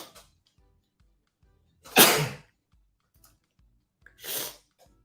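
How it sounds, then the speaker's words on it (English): Two loud, sharp human sneezes a couple of seconds apart, each a sudden burst with quiet breathing around them. "Hold on, I gotta sneeze."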